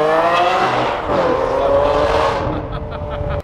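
With its exhaust valves open, a car engine revs hard and close, a loud rising and falling roar that holds for a few seconds before cutting off abruptly.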